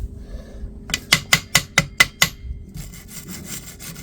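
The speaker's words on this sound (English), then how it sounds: "I just want to get a metal brush." A metal wire brush scrubs metal on a broken tricycle frame around the welds, with seven quick, loud, evenly spaced rasping strokes followed by softer, faster scrubbing.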